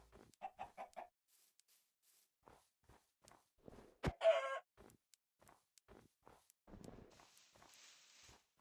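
Grown chickens in the video game Minecraft give a quick run of clucks, then one louder squawk among soft, steady footsteps, with faint clucking continuing.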